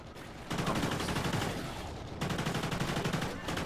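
Rapid automatic gunfire from a weapon fitted with a muzzle brake and holographic sight in Call of Duty: Ghosts Extinction mode, loud sustained bursts broken by a short pause, with no talk over the shooting.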